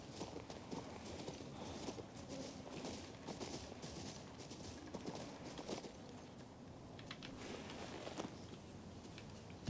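Horse hooves clip-clop at a steady riding pace in the fantasy video game King's Bounty II, fairly quiet and continuous over a low background of game ambience.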